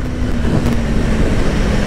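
A Kawasaki Ninja 500 motorcycle engine runs steadily and loudly up close, its low, continuous drone holding even with no talking over it.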